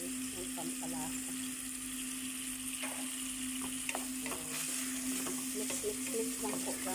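A spoon stirs monggo with shrimp in a frying pan over a steady sizzle, with soft scraping strokes recurring through the clip and a constant electrical hum underneath.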